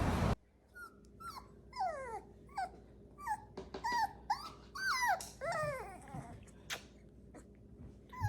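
A puppy whimpers and yips in a string of high, rising and falling whines with short pauses, close and fairly clear over a low steady background hum.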